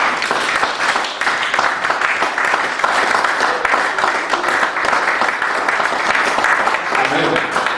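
A church congregation applauds loudly and continuously, a dense wash of many hands clapping with voices mixed in throughout.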